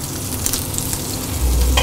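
Goose fat sizzling and crackling in a hot pan, a close, steady frying hiss with small pops.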